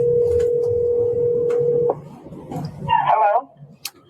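A phone call rings out: a steady electronic tone holds for about two seconds and cuts off, followed by a brief warbling ring burst amid faint background noise.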